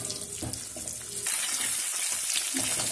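Eggs with turmeric and a little salt fry in a pan, a loud, steady crackling sizzle that grows brighter and hissier partway through, with a few soft scrapes mixed in.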